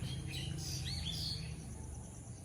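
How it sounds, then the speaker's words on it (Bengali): Birds chirp faintly outdoors on a calm morning among wet leaves. A few short tweets rise above a low, steady background hum, and no one speaks. "আর তার সাথে পাখির আওয়াজ"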